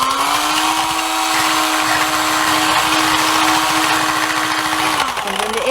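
An electric mixer whips egg whites for a Danish grandfather's beard cake meringue, its steady high whir running loud and close for several seconds before the motor pitch drops as it slows.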